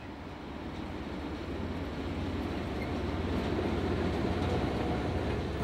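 An industrial freight train runs on a railway line through Zeeland farmland, near the branch to the Dow Chemical works, giving a steady, loud rumble and rolling wagon noise that continues throughout with no voices.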